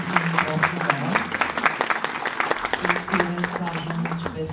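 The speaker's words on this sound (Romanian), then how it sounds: "vreau să o mai aplaudați încă o dată" Audience applause for a violinist at a book launch, a burst of fairly close clapping mixed with a speaker's voice talking over it.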